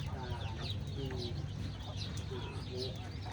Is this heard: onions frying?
no